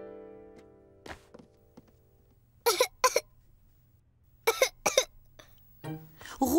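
A cartoon child with the flu coughs in three pairs of sharp, dry coughs, separated by quiet pauses, with a faint tap and soft tones early on.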